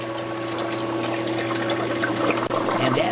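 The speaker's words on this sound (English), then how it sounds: "the water is being sprayed out over that plastic screen, which in turn collects in the bottom of the unit" Aquarium algae scrubber spraying water over a plastic screen and collecting in the bottom of the unit, a steady close hiss and splash with a low pump hum throughout.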